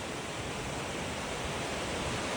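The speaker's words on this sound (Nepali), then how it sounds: "तल देख्न सक्नुहुन्छ नमस्ते झरनाको खोलाहरू" Rushing streams of Namaste waterfall roar as a dense, continuous wash of water noise, steady and moderately loud with no voices.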